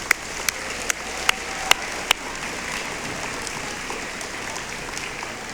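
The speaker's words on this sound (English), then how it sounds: "So let's give our singers another round of applause." Audience applause for an 8th grade chorus at a middle school moving-up ceremony: a soft, even wash of clapping with a few sharp, louder claps standing out near the start before settling into a steady patter.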